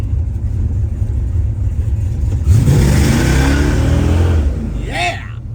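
A 1974 Dodge Charger's V8 engine revs and pulls under load while driving, a loud, steady mid-to-low rumble that swells midway and then briefly eases, with road and cabin noise throughout.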